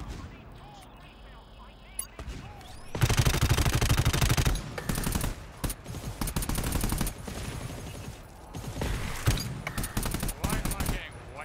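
Rapid automatic gunfire from the shooter game GTFO rattles out in long, dense bursts with brief pauses between volleys, loud and close, while voices talk underneath.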